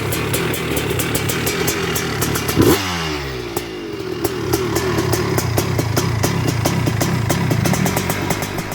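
A Honda 250R engine, freshly assembled and under gearing and jetting tuning, runs loud and close, with a revving surge near the start that settles into a steady, fast-pulsing idle for the rest.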